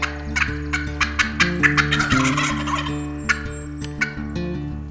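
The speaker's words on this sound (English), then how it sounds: "We saw those 3 toms come over the hill with those 2 hens, and they're a full strut" Several wild turkey toms gobble in repeated loud bursts, sounding close and outdoors, with other turkey calls and a steady low hum beneath; three toms with two hens are in full strut during a spring turkey hunt.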